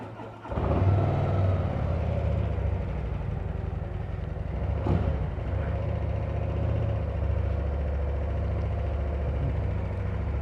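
A 2024 Harley-Davidson CVO Road Glide ST V-twin fires up after a short crank and settles into a loud, steady, rumbling idle close by, with a brief blip partway through.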